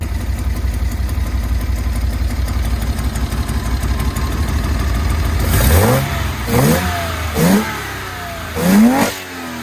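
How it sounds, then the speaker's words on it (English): A 1975 Datsun 280Z engine with triple Weber carburetors idles with a steady rumble, then revs hard in three or four sharp bursts that rise and fall quickly. "I'll insert a clip of triple Webers on these engines because they sound absolutely amazing"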